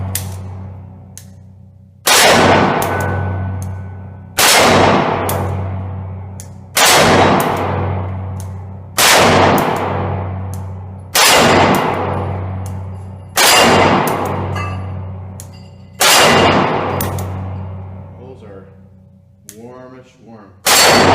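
Beretta 92FS and PX4 pistols fire close, loud double taps, about eight sharp paired reports spaced a couple of seconds apart, each ringing off in a long decay.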